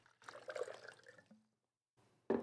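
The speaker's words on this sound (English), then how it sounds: "I'm going to pour this water to measure it." A liter of water is poured into a measuring vessel in a trickling, gurgling stream lasting about a second, faint and close, followed by silence and a short sharp knock.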